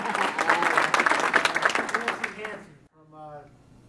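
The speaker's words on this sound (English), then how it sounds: "that applause that you received, again, was not rehearsed" A crowd gathered before a West Point July 4 parade breaks into loud, dense applause that fades out, followed by a brief voice speaking in the quiet.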